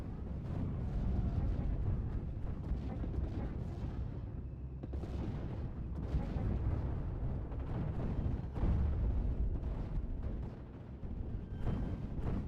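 Flak 88 anti-aircraft gun firing in a World War II video game battle, heavy deep booms rolling almost continuously into a dense, rumbling barrage with no pause and no talking.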